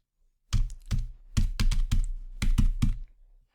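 A password is typed on a computer keyboard in a quick, close burst of key clacks lasting a few seconds, with no talking.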